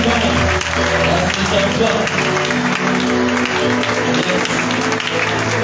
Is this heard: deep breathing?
no